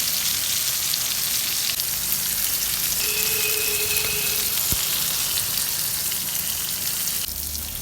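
Pieces of pointed gourd sizzle steadily in oil in a pan while being turned one at a time, a constant close frying hiss with a short clink partway through.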